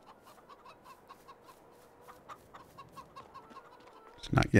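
Young chickens in Farming Simulator 22 cluck in a steady series of short, soft calls, moderately near, ending with a louder burst of flapping or squawking.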